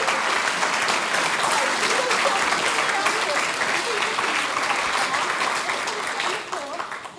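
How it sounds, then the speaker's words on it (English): A church congregation claps steadily and loudly at an Easter Sunday service, a dense, continuous round of applause that fills the room and tapers slightly at the end. "Let's give them a round of applause."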